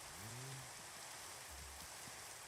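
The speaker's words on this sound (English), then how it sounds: "And there's rain." Rain falls in the video game Minecraft with the GregTech mod, a faint, steady hiss of continuous downpour, with a few low thuds and tones underneath.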